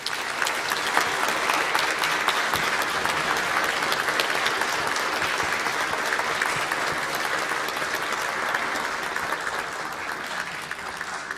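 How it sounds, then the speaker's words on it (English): Steady, dense applause from a concert audience after a cellist and ensemble's noon chamber music performance, sustained and even throughout with no talk over it. "One final applause and we'll be out of here."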